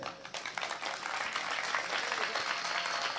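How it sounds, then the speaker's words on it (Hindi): An audience applauds at a Hindi heroic-verse poetry recital, a steady wash of many hands clapping that swells slightly and holds, fairly close, with no talking over it. "आपकी तालियां मुझ तक पहुंच रही है"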